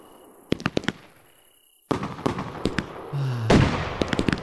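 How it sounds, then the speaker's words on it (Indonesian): Firecrackers and fireworks bursting in the video game Fireworks Mania: a few sharp pops at first, then a dense run of crackling bangs and booms, loud and close, with a rising whoosh near the end. "Petasan-petasan seperti ini."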